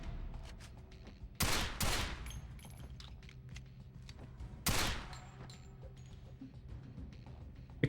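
Gunfire from a gun in the PS2 video game 007: Quantum of Solace: two loud, close bursts of shots, each a quick pair of cracks, about three seconds apart over a low steady game ambience.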